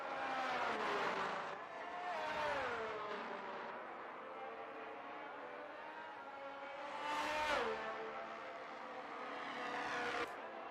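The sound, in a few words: race car crashing and skidding in F1 22 video game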